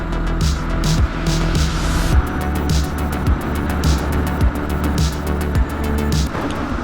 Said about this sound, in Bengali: আর এর বাইকের যে আওয়াজ মাথা যন্ত্রণা করছে আমার